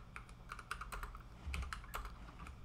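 Close, quiet keystrokes on a computer keyboard typing a short command, a quick irregular run of clicks without speech.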